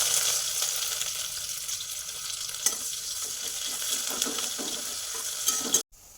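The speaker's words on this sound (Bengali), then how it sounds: "কুচানো পেঁয়াজ দিয়ে দেবো।" Chopped onions fry in hot mustard oil with whole cumin and garam masala, giving a bright continuous sizzle with occasional stirring clicks before it cuts off abruptly near the end.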